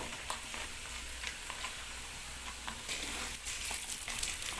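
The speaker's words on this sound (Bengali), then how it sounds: "এবার আমাদের আদরক রসুনের পেস্ট দিয়ে নেওয়া হচ্ছে।" Ginger-garlic paste frying with onions in a pan for a soybean curry, a steady broadband sizzle with soft stirring scrapes throughout, close and moderately quiet.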